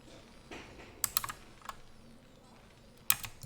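Loud clacking on a computer keyboard during a StarCraft Brood War LAN broadcast, a few irregular bursts of sharp close keystrokes with gaps between them and faint background murmur.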